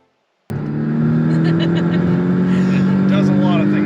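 A 2017 Porsche Cayman engine bursts in after a moment of silence and holds a loud, steady droning roar under acceleration, heard close from inside the cabin.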